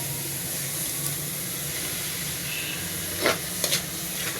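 Carrot halwa fries in ghee in a pan with a steady soft sizzle, broken near the end by a few short scraping stirs of a spoon.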